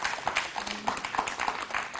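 Hands clap in a classroom game for children, giving a steady run of soft, fairly quick claps at a moderate distance over faint background chatter.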